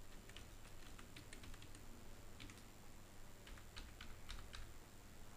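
Keys on a computer keyboard tapped quietly in short bursts, a password being entered, with brief pauses between clusters of clicks.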